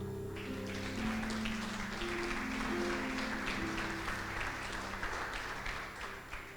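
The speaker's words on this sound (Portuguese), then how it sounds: "dê um aplauso ao Senhor" A church congregation applauding together, a steady, dense clapping that fills the room throughout, with sustained organ or keyboard tones underneath.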